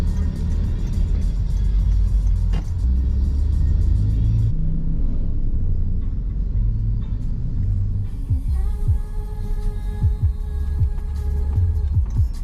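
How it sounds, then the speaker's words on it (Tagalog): Road traffic in Tambo, Lipa City: a steady low rumble of passing cars and engines, with a vehicle passing close by and some engine revving and humming, continuous throughout with no talk. "Tambo City traffic."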